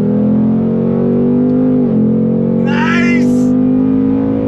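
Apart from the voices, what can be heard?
2022 Ford Mustang Mach 1 engine accelerating from a roll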